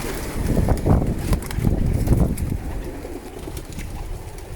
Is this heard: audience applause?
no